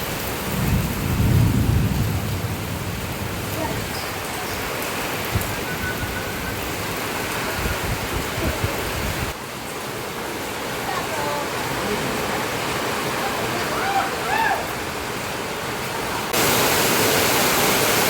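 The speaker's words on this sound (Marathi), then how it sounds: "भरपूर पाऊस लागलेला आमच्या समोर" Heavy rain pouring over open farm fields with rumbling thunder, a dense continuous roar at close range, with a deep thunder roll near the start.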